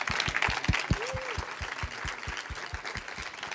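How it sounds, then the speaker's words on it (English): An audience at a Bitcoin tech talk claps after the speaker finishes, with a busy patter of many hands. Several sharp, closer claps stand out in a loose rhythm, and there is a faint voice-like tone midway. "A round of applause for Louis Van Quende."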